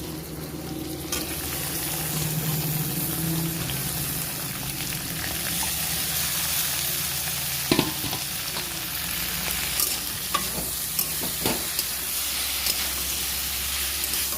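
Tomato and eggplant fry together in a hot wok, giving a steady, dense sizzle throughout with a few sharp scraping knocks from stirring near the middle and end.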